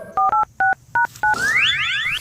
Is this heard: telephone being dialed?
yes